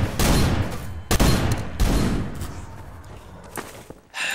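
Gunfire erupts in the Garry's Mod DarkRP game: a few heavy, close shots fire in quick succession, each with a booming decay, followed by quieter clatter and a final thump, with no speech.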